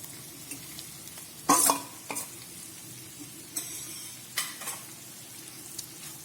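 Spice masala being stirred into cooking kantola (spiny gourd) sabzi in a pan: soft scraping strokes and a few sharper utensil knocks over a faint low sizzle, close and fairly quiet.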